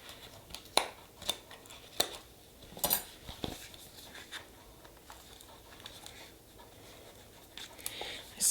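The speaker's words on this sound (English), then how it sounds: "Got to use my little teeny scissors." Quiet, sharp snips from small scissors cutting manicure materials at irregular intervals, some close together, with faint rustling between cuts and no talking.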